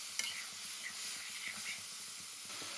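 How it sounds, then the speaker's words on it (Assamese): Lentils, tomato and squash frying in a pan with salt and turmeric, giving a steady broad hiss with light stirring scrapes and small clicks throughout, close and continuous with no talking. "এয়া ধুনীয়াকৈ ভাজি লৈ ইয়াতে আমি এতিয়া দালি, বিলাহী, স্কচ দি ইয়াতে নিমখ, হালধি দি ধুনীয়াকৈ ভাজি ল'ম"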